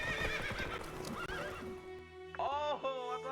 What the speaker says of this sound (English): Oh man, I can't ride a horse, bro.